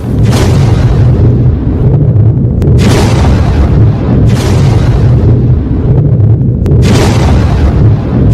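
Three huge, close explosions from a missile strike on an Iranian IRGC missile base, each a sudden blast followed by a long rumbling roar, with a steady heavy rumble throughout.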